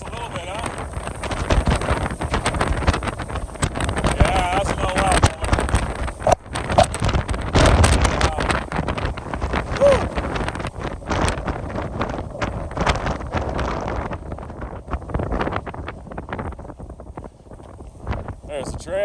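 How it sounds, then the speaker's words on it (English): Steady wind gusting on a high mountain trail at about 2,400 meters in October, a constant roaring buffet against the microphone lasting throughout and easing slightly toward the end. "And here picks up the wind."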